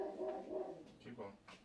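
A dog barks a few times in short, faint bursts, somewhat distant, under a person talking.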